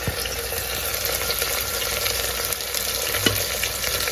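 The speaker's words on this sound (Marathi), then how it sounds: "आता टोमॅटो पण परतून घ्यायचा" Chopped onion and tomato sautéing in a pan for a Maharashtrian festive thali, a steady close hiss of frying with faint scraping, continuous and even in loudness, no talking.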